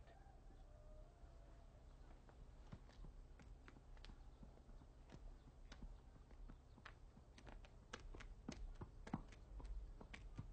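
Hooves clip-clop unevenly as a horse is led away, sharp intermittent hoof strikes over a quiet rural background, growing denser toward the end.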